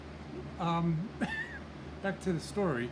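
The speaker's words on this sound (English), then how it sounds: "That's my cat." A fluffy house cat meows a couple of times close by, its harmonic cries mixed in with someone talking in a room where a reach-in beer cooler is being serviced.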